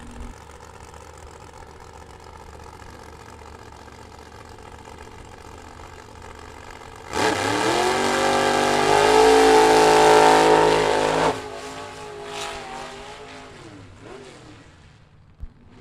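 Vintage gasser drag cars in a double A gas shootout at Byron Dragway idle with a low rumble. A loud, harsh roar then erupts for about four seconds as they rev and launch, before receding to a fading engine note.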